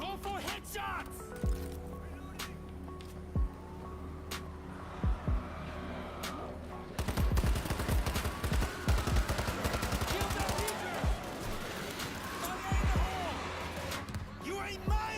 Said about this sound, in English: Oh, shooting at a dead body.